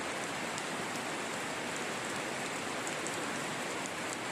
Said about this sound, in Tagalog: Ay kung kusuga sa ulan.